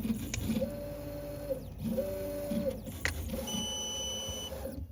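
A Neoden YY1 pick and place machine runs with both heads, giving repeated whirring motor sweeps in three rising-and-falling passes with short high electronic tones near the end, steady and close, with no talk.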